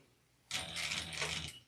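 A sewing machine stitches fabric for a small wristlet in one quiet, continuous mechanical whir of rapid needle clatter lasting about a second, after a near-silent pause.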